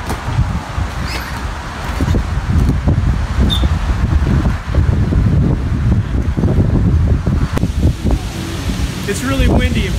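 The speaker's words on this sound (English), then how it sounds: "It's really windy." Strong wind buffets the microphone on a beach during a kite launch, a constant loud roar with gusty low rumble throughout, while people talk faintly underneath.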